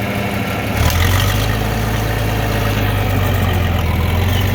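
A John Deere 4030 gasoline tractor with a synchro-range transmission idles close by, a steady low rumbling drone that firms up slightly after the first second and then holds evenly, with no talking.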